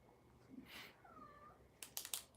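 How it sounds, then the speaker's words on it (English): Scout, a noisy male house cat, lets out a faint drawn-out meow, followed by a cluster of sharper bright noises near the end. "It's our other cat, Scout."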